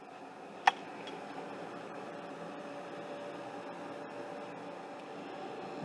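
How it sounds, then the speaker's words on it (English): Steady fan whir and hum of a food dehydrator drying onions, an even, constant drone close by with one sharp click near the start and no talking. "start the dehydrator"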